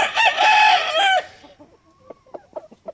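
A gamefowl rooster crows loudly once, a long strained call, followed by a few quieter clucks and short calls from nearby gamefowl hens in a pen.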